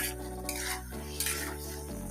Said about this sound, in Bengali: এরপর আমি কিন্তু এটা নাড়তেই থাকবো